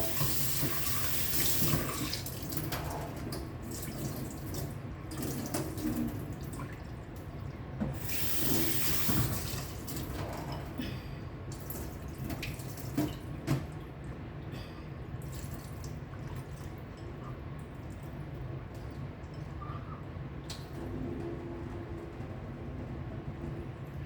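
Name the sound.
washing chicken hearts under running tap water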